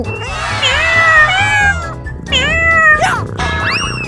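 A cat meows loudly and close by in a series of long, drawn-out, wavering cries, with a few shorter meows following after a brief pause.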